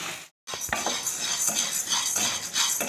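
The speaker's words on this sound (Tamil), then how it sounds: "இப்போ இந்த பாசி பருப்பை நம்ம பொன்னிறமாக வறுத்துக்கலாம்." About 100 grams of moong dal dry-roasting in a pan, a spoon scraping and stirring the lentils in quick, light rattling strokes after a brief pause, close and fairly quiet with no talking.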